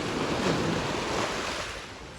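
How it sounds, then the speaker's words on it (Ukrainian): Sea waves surge and break on an Albanian shore, a loud, continuous rush of surf with wind buffeting the microphone, easing slightly toward the end. "Дивіться, яка там хвиля."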